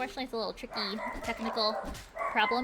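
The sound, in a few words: dog barking in the background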